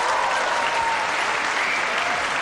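An audience at a world nine-ball pool championship match applauds loudly and steadily, a thick, unbroken roll of clapping from a large, appreciative crowd.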